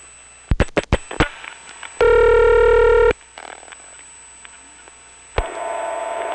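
Dialing on a Senderized XY step telephone exchange in Prince William County, Virginia: a few sharp clicks, a steady tone of about a second, softer mechanical clatter, then another tone starting near the end.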